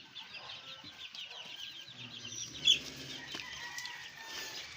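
Bloodline fighting roosters cluck softly in a yard, with low, scattered clucks and faint chicken calls over quiet background noise, including one brief louder note.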